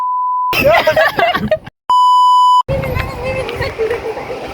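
Sustained censor beeps cut in twice over lively talk and background chatter, loud steady tones interrupting the voices.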